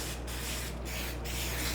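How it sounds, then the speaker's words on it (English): Cooking spray is sprayed onto parchment paper in a pan while baking gingersnaps, giving a close, steady hiss of aerosol with brief pauses between three short bursts. "Spray your parchment."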